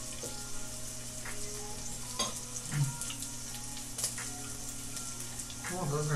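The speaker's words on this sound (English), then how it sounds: "Oh, those are sizzling. Oh, I put the oil in." Korean beef BBQ sizzles in hot oil, giving a steady, dense crackle throughout with a few small pops and a slight swell near the end.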